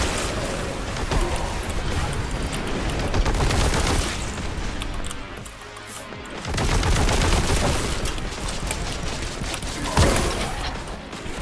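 Gunfire in Warhammer 40k: Boltgun is a loud, sustained volley of rapid shots and heavy booms that eases off briefly midway before resuming, with a voice faintly underneath.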